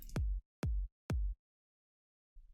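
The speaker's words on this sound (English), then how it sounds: "And I'm using this kick from the Cashmere pack." Three punchy electronic kick drum hits from a sample pack, evenly spaced about half a second apart, each with a deep booming decay, followed by a faint fourth.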